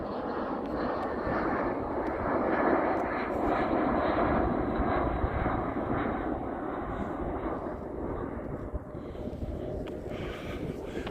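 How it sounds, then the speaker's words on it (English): An airplane comes in to land, its engine roar steady, loud and continuous throughout with no talking over it. "You hear the plane coming in for a landing."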